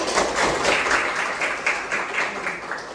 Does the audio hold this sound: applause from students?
yes